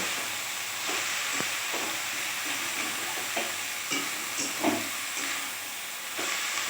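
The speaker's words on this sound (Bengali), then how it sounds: "এবার আমি ভালো করে তেলের সঙ্গে শাকটাকে মেশাবো" Radish greens with chopped stalks and green chillies are stirred in hot oil, with a soft continuous sizzle and scattered spatula scrapes and taps against the pan, and no voices.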